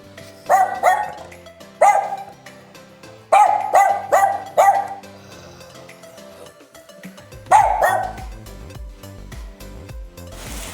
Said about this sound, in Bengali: পুচকি পাড়া কুকুর ছানাটা আমাকে দেখে যাচ্ছে যদিও বেরোতে পারছে না